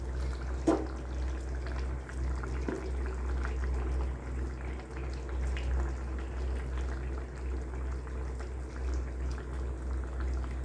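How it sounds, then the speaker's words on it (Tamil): Egg omelette kulambu curry bubbling in a pot, a soft steady simmer with low burbling and occasional faint pops, fairly quiet and continuous. "குழம்பு நல்லா கொதிச்சு சூப்பராக இருக்குது"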